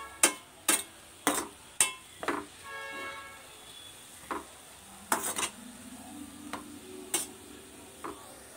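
Grated carrot for carrot halwa stirred in a pan, with a series of sharp spatula scrapes and clicks against the metal at an uneven rhythm, spaced by brief quiet gaps and a faint hiss beneath.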